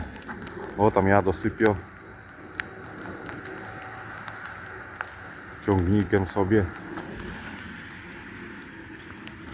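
Steady patter of rain mixed with snow runs throughout, with two bursts of a man's nearby speech in the middle and low background noise.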